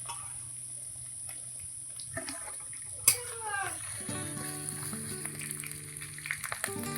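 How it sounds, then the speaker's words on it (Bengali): Ginger paste dropped into browned onions in a pan, with a low steady sizzle and frying crackle running beneath a kitchen voice, rising slightly after the paste goes in. "পেঁয়াজটা তো লাল হয়ে গেছে এবারে বেটে রাখা আদা বাটাটা দিয়ে দিচ্ছি"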